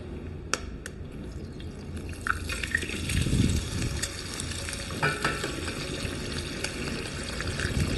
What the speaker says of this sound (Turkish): nasıl kızgın olduğunu görmeniz için yağın yanışını gösteriyorum